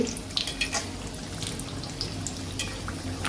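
Ridge gourd fritters, gilka bhaji, frying in hot oil, a soft steady sizzle and crackle with a few small pops and clinks, faint and close, with no voices.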